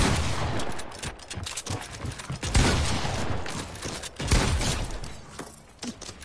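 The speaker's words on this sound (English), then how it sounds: "Stop shooting me in the back." Heavy gunfire in the battle-royale game Fortnite on PS4, a loud, near barrage of overlapping shots and impacts that runs continuously with a few stronger bursts, without talk.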